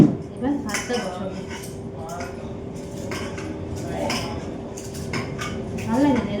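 Rice is washed in a metal pot before cooking, with repeated clinks and scrapes against the pot in an irregular rhythm, close and moderately loud, and a voice heard now and then.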